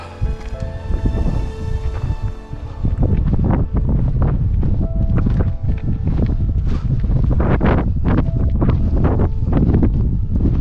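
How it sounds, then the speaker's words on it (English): Strong wind buffeting the microphone on a mountain hiking trail in Glacier National Park, loud and continuous with roaring gusts, heard alone without any voices. "So I know you can't hear me because of the wind"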